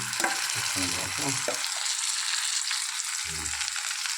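Spices sizzle loudly in hot oil with a dense, continuous crackling hiss, joined by a few low clattering knocks from the pan.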